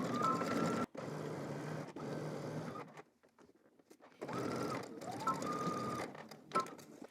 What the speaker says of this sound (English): Now let's head to the machine and stitch this using 5/8 of an inch seam allowance.